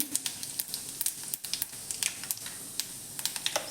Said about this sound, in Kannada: ಜೀರಿಗೆಯನ್ನು ಹಾಕ್ಕೋತಾ ಇದ್ದೀನಿ